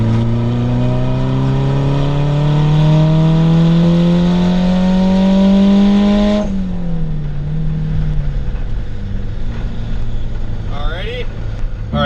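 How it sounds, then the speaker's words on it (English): Turbocharged Honda Prelude F20B engine revving hard through a VTEC pull, a loud close rising harmonic howl that climbs steadily for six seconds, then drops abruptly to a lower, rougher drone with fluttering turbo and wastegate noise. "first VTEC pull underway here"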